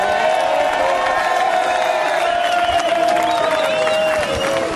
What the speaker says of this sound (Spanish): Venga, gente, un aplauso para Roberto